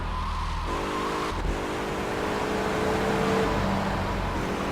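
A stolen sports car in GTA3 carries a steady engine drone that shifts pitch as it revs and runs on, loud and close, with game music tones layered over it.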